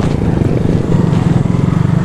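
A moped ridden along a forest track, its small engine droning steadily and close throughout, loud and continuous with no speech.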